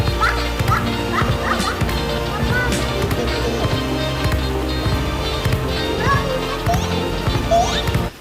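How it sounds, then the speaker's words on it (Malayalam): A dog barks and yips in short repeated bursts at a distance in the rain, over a steady low rumbling engine-like drone. "ഇങ്ങോട്ട് വരുമോ പട്ടി?"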